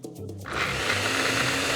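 A small mixie grinder grinding almonds with milk: a brief quiet moment, then the motor kicks in to a loud, steady, high whirring grind that holds to the end, close by and alone.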